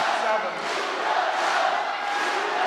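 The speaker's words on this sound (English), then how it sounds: "The crowd chant his name." At a badminton match at the Korea Open, a large arena crowd chants a player's name in a loud, sustained, rhythmic roar that fills the hall.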